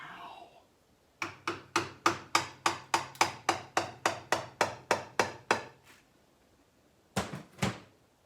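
A hammer strikes repeatedly in a quick, even rhythm, about sixteen sharp blows close by, then a pause and two more hits; no voices.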